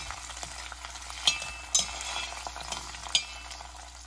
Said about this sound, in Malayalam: പിന്നെ ഇത് നന്നായിട്ട് വറുത്തെടുക്കാം.